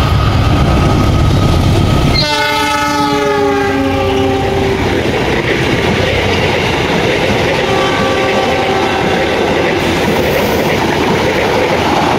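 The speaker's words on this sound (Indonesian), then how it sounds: "Kereta api Argo Wilis persiapan melintas langsung di stasiun Cikuda Patuh" The Argo Wilis passenger train passes loudly through Cikudapateuh station, sounding a long blaring horn that slides down in pitch, with heavy rumbling wheels and rail clatter continuing after the horn fades.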